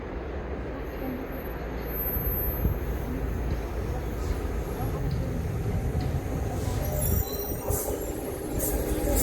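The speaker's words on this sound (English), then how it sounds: "They're coming through now on platform 2. We've actually got some freight," A freight train rolls through Dawlish station in a steady, sustained rumble, with faint squealing higher up and some distant background noise.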